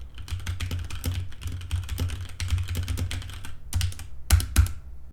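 Typing on a computer keyboard, captured through a distant microphone: rapid, fairly quiet key clicks in an irregular stream, ending with a couple of sharper taps.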